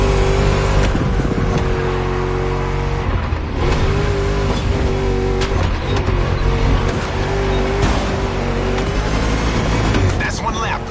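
A car engine drives in the video game The Crew Motorfest, a loud, continuous revving roar with shifts and tire squeal, while someone talks over it.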